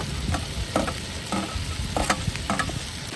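Green chilies and onions frying in a pan for a mutton dish: a steady close sizzle with stirring scrapes and soft clatters scattered throughout, no voices.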